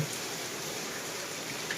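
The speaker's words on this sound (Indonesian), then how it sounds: "Nah, hujannya gitu loh." Steady rain falls on surfaces outdoors, a constant, even hiss of raindrops at moderate distance with no voices.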